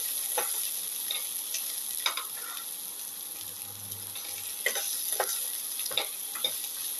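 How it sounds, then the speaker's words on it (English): Onion and garlic being sautéed in a pan, a soft constant sizzle broken by repeated scraping and tapping strokes from a stirring utensil, close but fairly quiet with no voices. "Thoroughly sauteing it. The onion and the garlic"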